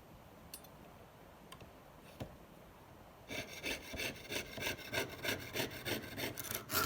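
A jeweler's saw cuts metal supported on a wooden bench pin: a few faint ticks first, then a rapid series of rasping strokes, close and fairly quiet, with no talking.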